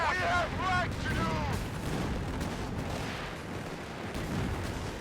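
A Panzer III tank fires in the World War II strategy game Company of Heroes 3 at the First Battle of El Alamein. Heavy cannon booms and rumbling battle noise follow brief game voice callouts at the start.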